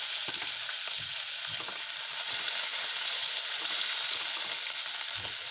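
Cumin seeds, finely chopped green chili and onion fry in a hot pan, giving a steady, dense sizzle and crackle throughout with no talking.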